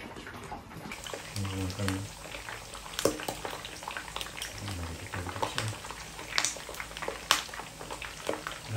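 Pork pieces frying in hot oil in a home kitchen, spitting and splattering with sharp crackles and pops over a steady sizzle, while people talk intermittently nearby.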